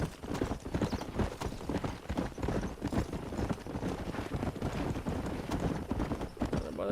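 Horse hooves clip-clop steadily alongside occasional neighing from a horse in the Red Dead Redemption game on Xbox Series S, a busy close rhythm that continues throughout with a voice talking faintly over part of it.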